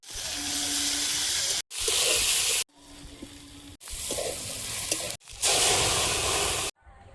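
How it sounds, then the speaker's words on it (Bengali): Dal being tempered with panch phoron, chopped onion and tomato sizzles and hisses in bursts, with loud frying spells broken by short silent cuts. "ডালটা ফোড়ন দিয়ে নেব। পাঁচ ফোড়ন, পেঁয়াজ কুচি,"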